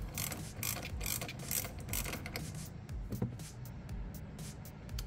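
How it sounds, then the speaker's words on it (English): A 10mm socket ratchet loosening the negative battery cable on a Kia EV6, a quiet rapid clicking of the pawl with rubbing metal sounds close by, no talking. "I got my 10mm socket here, and we will go ahead and take this loose."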